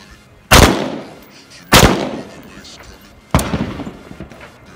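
Gunshots fired at a target during private tactical shooting practice: three loud, sharp reports spaced about a second or more apart, each ringing off with a short echoing tail.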